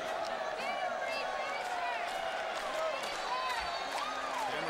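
A wrestling arena crowd cheering and whooping for Naomi in a match against Brie Bella, a dense roar with scattered whistles and shouts while a commentator talks over it.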